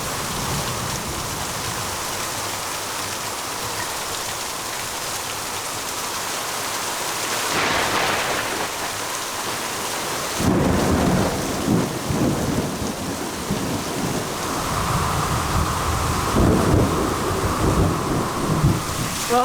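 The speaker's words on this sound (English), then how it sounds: "It just downpours. It comes down so hard, so fast, and the lightning and thunder is just like, it hits you in the chest." Heavy rain pours down steadily during a Florida storm, with deep rolling thunder rumbling in partway through and swelling louder toward the end, no voices present.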